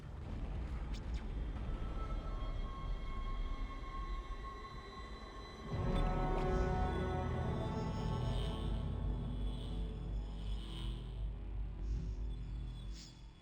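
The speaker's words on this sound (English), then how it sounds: "Get on the train, Isaac!" A train pulling into a station in the sci-fi horror video game Dead Space, a loud rumbling roar that swells suddenly midway and stays heavy, with ringing tonal hums over it and no talk.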